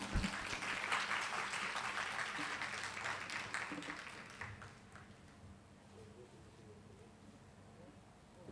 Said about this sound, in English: A round of applause for the star, please.